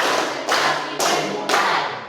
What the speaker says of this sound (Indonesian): kita coba tepuk konsentrasi di penghujung